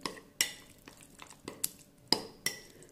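A spoon stirs thick curd mixture for carrot pachadi in a bowl, giving about seven sharp clinks and scrapes at an uneven pace, close and fairly quiet, with no talk.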